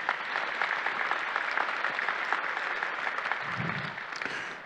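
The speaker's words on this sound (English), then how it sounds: "Please give them a hand of applause." Sustained applause from a cathedral congregation for a choir at a Mass commemorating Martin Luther King, steady dense clapping filling the space from start to finish, with a brief low rumble near the end.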